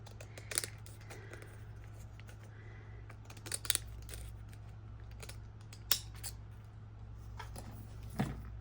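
Scissors snipping along a paper page edge for a journaling craft: scattered quiet cuts and light paper rustles over a steady low hum, with a few sharper snips standing out.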